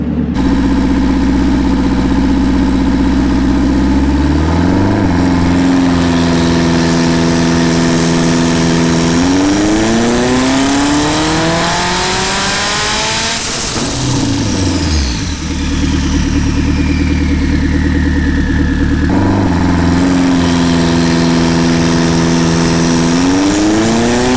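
An 800hp K20 engine swapped into a Toyota MR2 runs loud on a dyno, repeatedly revving up in long rising sweeps and dropping back, a sharp whine peaking midway, close and very loud with no talking.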